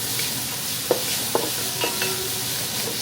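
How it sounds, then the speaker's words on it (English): Onions frying in a hot pan with meat for a meat sauce, a steady broadband sizzle throughout with a few sharp clinks and scrapes of stirring, close and alone without talk. "Put the onions right in there, like that."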